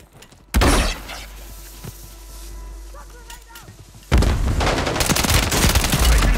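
Loud bursts of gunfire and explosive blasts erupt in a Call of Duty battle, with a heavy opening boom, scattered shots and sharp impacts, then a dense sustained fusillade close up.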